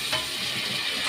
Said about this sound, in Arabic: هنجيب بقى الطماطمتين اهو وهنشوح برضو